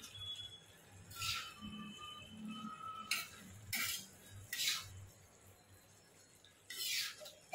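Dry cowpea pod stir-fry being mixed after salt goes in: scattered metal spatula scrapes and clinks against the pan, several short bursts with quiet gaps between, fairly faint and with no talking.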